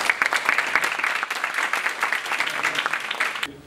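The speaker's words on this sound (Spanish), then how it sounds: "lo recibimos con un cálido aplauso" Warm applause from a lecture audience at a University of Buenos Aires medical faculty event, welcoming a speaker; dense, steady clapping from many people fills the room for a few seconds and then stops abruptly.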